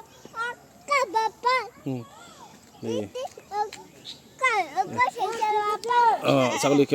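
A nanny goat and her two kids bleat repeatedly in wavering, nasal cries, close and loud, with a voice calling among them.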